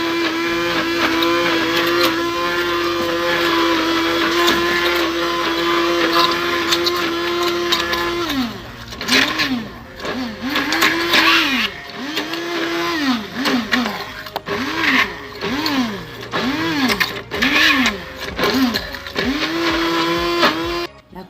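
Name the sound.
blender blending cooked figs for fig jam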